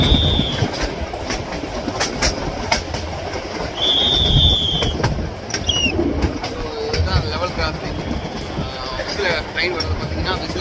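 A train rolls through a level crossing in the Gir forest, its wheels clattering steadily and close, with brief high whistle-like squeals and birdsong over the rumble.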